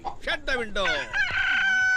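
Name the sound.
rooster crowing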